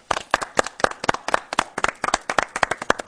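A studio audience at a Swedish talk show claps in quick, uneven bursts, a sharp close-up patter of hands that lasts a few seconds with no talking.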